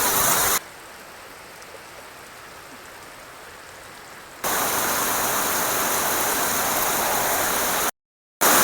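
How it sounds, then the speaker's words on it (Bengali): Heavy rain during a thunderstorm pours down as a dense, steady hiss. It jumps abruptly between quieter and louder stretches, with a brief total dropout near the end. "প্রচুর বৃষ্টি চলে এসেছে আর তার সাথে বিদ্যুৎও চমকাচ্ছে"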